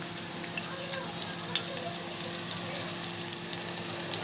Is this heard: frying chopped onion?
yes